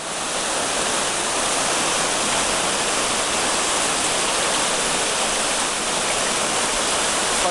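Waterfall of the Rio Sant'Angelo at Bolognano roaring steadily as a dense, continuous broadband rush of falling water, loud and close, without pauses or voices.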